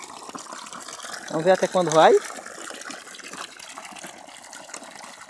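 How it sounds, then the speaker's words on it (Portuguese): Water spills over from an artesian well in a faint, steady gushing wash, briefly covered by someone speaking a few words. "Mas olha, a água tá derramando."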